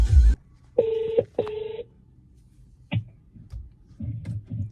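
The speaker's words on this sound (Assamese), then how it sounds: "ৰিতম দাক এটা ফোন কৰোঁ ক'ত আছে" A mobile phone dials a call with two clear, evenly held keypad tones in quick succession, followed by quieter handling clicks and faint background noise, with no speech.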